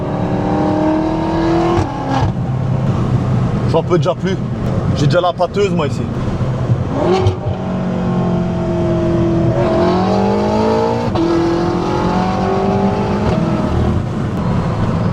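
A Stage 2 tuned BMW M5 F10 engine revs and roars loudly, rising and falling in pitch as it accelerates, with someone talking over it.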